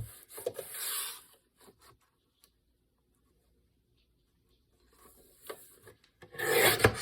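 Paper is cut in half for a handmade journal, heard as close, soft rasping and rubbing strokes in short bursts at the start and end with a quiet gap between.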